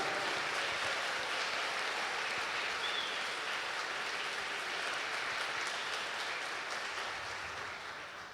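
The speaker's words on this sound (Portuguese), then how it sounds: "Uma salva de palmas para o ressuscitado." A church congregation applauding together during a Pentecost Mass, a dense, even wash of many hands clapping that holds steady for several seconds, soft and distant, then slowly fades toward the end.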